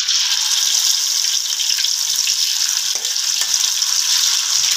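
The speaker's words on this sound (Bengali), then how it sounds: "পুঁটি মাছগুলো হালকা করে ভেজে নিব আমি।" Small puti fish, rubbed with salt, chilli and turmeric, fry in hot oil in a pan, giving a continuous bright sizzle and crackle that stays loud and steady throughout, with nobody talking.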